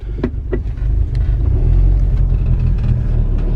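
A VW MK4 GTI idles in neutral, a loud, steady low engine rumble heard close from inside the car, with a couple of faint knocks near the start.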